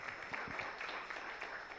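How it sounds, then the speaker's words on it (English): Quiet, distant clapping from a seminar audience, a soft even wash of applause lasting under two seconds with a few more distinct claps scattered through it. "Yes, can we have an applause for him?"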